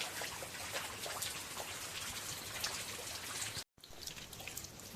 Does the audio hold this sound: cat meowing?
no